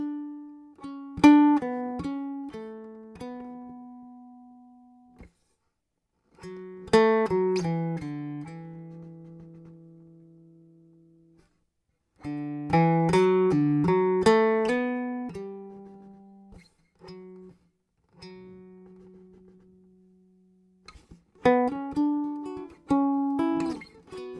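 Mountain dulcimer played in short melodic phrases separated by pauses, plucked notes ringing clearly with sustained drones, each phrase shaped like a spoken sentence, close and alone.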